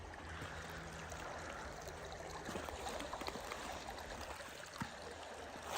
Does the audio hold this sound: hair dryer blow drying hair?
no